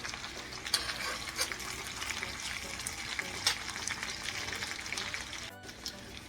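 Sliced potatoes sizzle and crackle steadily in a hot frying pan, a dense close fry with small pops and occasional scraping stirs as they brown.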